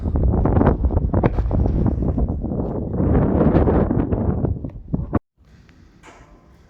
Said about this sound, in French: Il y a plein de vent.